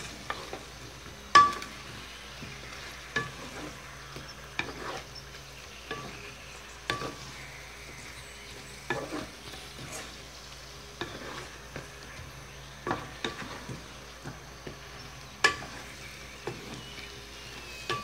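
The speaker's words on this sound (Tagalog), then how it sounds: "Haluin lang po natin hanggang ma-coat po lahat yung ating kamote." Sweet potatoes being stirred in a pan to coat them for Filipino kamote que, with soft repeated scraping and stirring strokes over a low, steady sizzle of frying, no talk.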